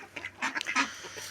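Domestic ducks call in a backyard flock, a cluster of short, raspy quacks rising and falling over about a second, close and fairly loud with no talking.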